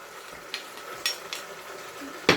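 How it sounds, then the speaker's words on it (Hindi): Ginger-garlic paste fries in a pot for a home-style nihari, giving a low, steady sizzle with a few sharp scrapes and clinks of a spoon against the metal, the loudest knock coming at the very end. "और अभी हम इसको 2-3 मिनट फ्राई कर लेते हैं"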